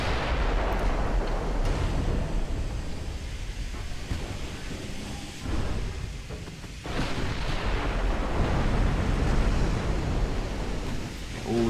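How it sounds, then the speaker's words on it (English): Battleship main guns firing in the naval strategy game Ultimate Admiral Dreadnoughts, a WW2 battle, as dense continuous booming rumble with surging waves of low roar throughout, no voices. "Guns firing."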